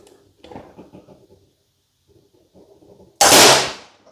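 A two-stroke dirt bike flywheel lets go from a steering wheel puller with a sudden sharp crack and burst of noise after quiet wrenching clicks and faint handling sounds, close and loud.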